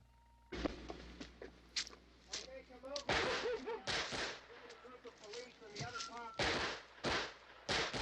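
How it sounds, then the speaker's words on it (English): Gunfire in a 1968 zombie horror film soundtrack, irregular sharp bursts of shots repeating through the scene, loud and crackling, mixed with voices talking underneath. "they are just opening fire on everything"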